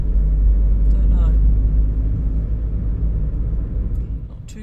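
A steady low road rumble fills the cabin of a moving car on a drive in France, loud and continuous, fading slightly toward the end.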